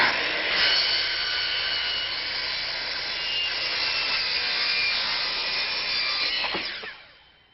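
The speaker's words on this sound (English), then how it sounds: "using this a standard carbide blade, cut right on the line" A saw with a standard carbide blade cuts through a vinyl handrail cover backed by a 2x4 filler. It makes a loud, continuous, harsh whine for about seven seconds that tapers off at the end.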